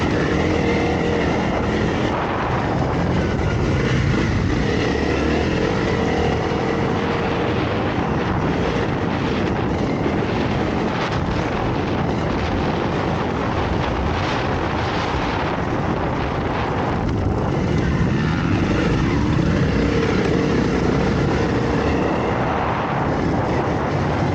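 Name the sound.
Honda CRF dirt bike riding on a motocross track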